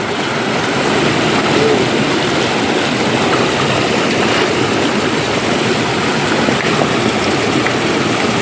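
Water rushes and churns steadily for several seconds, a loud, broadband, continuous flow with no clear pauses, heard up close.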